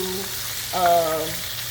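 Shrimp sizzle steadily in hot oil, a close, continuous frying hiss with a brief tonal squeal partway through.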